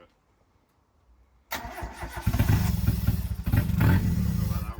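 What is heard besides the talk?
CA18DET engine starting in JDM Mazda Miata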